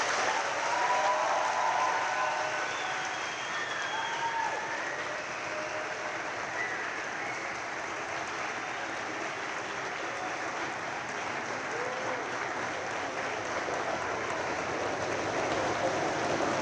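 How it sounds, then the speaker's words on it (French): Steady, sustained applause from a seated audience at a French round-table panel evening, a dense even patter of many hands continuing without a break. "vais demander encore un tonnerre d'applaudissements pour nos intervenantes."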